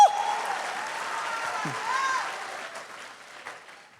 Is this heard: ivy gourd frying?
no